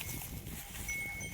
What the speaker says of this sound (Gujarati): જો ભાઈ આ બધી ગાયો આવી ગયું છે.